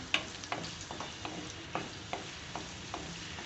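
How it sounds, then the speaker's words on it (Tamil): Eggplant pieces frying in hot oil for an oil-brinjal kulambu, a steady close sizzle broken by a string of sharp scrapes and knocks as the pieces are stirred at a roughly even pace. "இப்போ எண்ணெய் சூடாயிடுச்சு நான் வச்சுருக்க கத்திரிக்காவை வந்து இதில் போட்டுடுறேன்"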